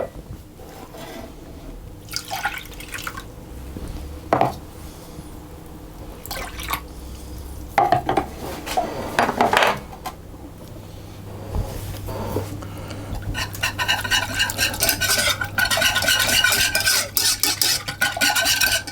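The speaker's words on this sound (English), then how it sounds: "this is a wire whisk, but my pan is hard anodised, so it won't scratch it" A wire whisk works through a smooth lemon juice and water mixture in a hard-anodised pan, giving soft, wet scraping and sloshing strokes close up, with scattered drips and taps that thicken into steady whisking toward the end.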